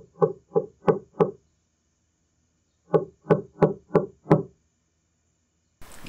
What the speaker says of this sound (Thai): คนนำทางของเราเคาะประตูก๊อกๆเป็นจังหวะเช่นเดียวกับบุรุษไปรษณีย์